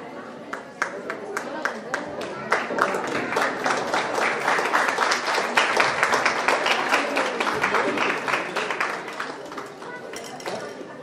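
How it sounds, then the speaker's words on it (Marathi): Sustained loud clapping from an audience welcoming a state-level award recipient at a community association ceremony in Kalyan, a dense rattling applause lasting the whole stretch with a few voices mixed in. "जोरात टाळ्या वाजवून स्वागत करायचं."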